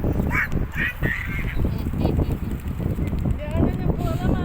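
Ducks or geese being fed by a child and his grandmother, giving several honking and quacking calls close by over constant outdoor bustle, with people talking at times.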